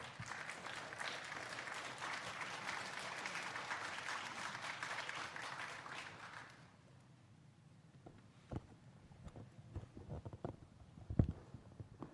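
A warm round of applause from a forum audience welcomes Keiji Furuya, member of Japan's House of Representatives, at the opening of the 2022 Yushan Forum in Taiwan; dense clapping fills the room for about six seconds, then stops, leaving quiet room noise.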